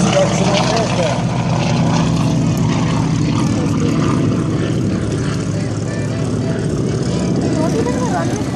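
Harvard trainer airplane at an air show, its propeller engine a loud, steady drone that stays near and constant throughout.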